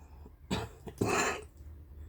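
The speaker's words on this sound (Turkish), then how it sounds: "Özür dilerim bu öksürük sesi" Two close, sharp coughs, the second one longer and harsher, with near silence around them.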